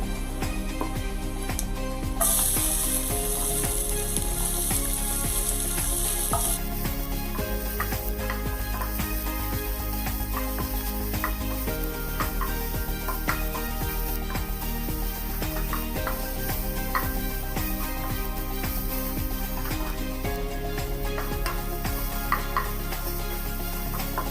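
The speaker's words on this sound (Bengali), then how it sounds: "এবারে এর মধ্যে দিয়ে দেবো পেঁয়াজ কুচি আর রসুন।" Chopped onion and garlic sizzle and fry steadily in a pan for a vegetable chop, a dense continuous crackle with a brief louder hiss early on and occasional scraping stirs, no voices.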